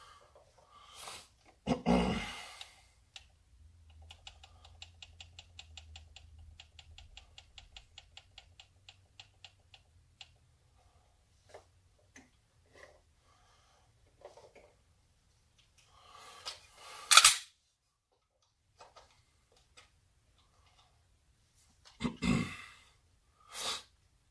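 Dry-fire pistol drill of a draw, two trigger presses, a reload and two more presses: sparse small clicks and mechanical handling noises, with sharper rustling bursts at the start and end, in a quiet room.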